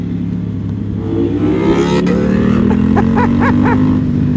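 Motorcycle fitted with an Akrapovic exhaust and a Bren Stage 2 flash tune, accelerating hard with a rising engine note that climbs steadily, with rapid gear-linked pitch sweeps near the end, close and loud without speech.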